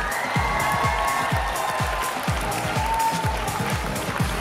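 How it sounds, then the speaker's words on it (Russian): Audience applause for a contestant at a music competition show, a steady wash of clapping and crowd noise with a rhythmic low thumping underneath, holding at a constant level throughout. "Ну и, конечно же, аплодисменты для участника номер 4, Егор Матвеевский."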